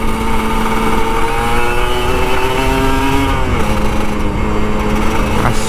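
A two-stroke Kawasaki Ninja RR 150 motorcycle engine runs close by with a loud, raspy, steady buzz whose pitch wavers slightly, without any sharp rev climb.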